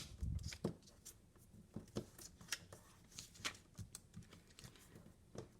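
A half sheet of paper being folded for an origami model, heard as a close run of crisp, papery creases and taps in irregular bursts, fairly quiet and without any talking.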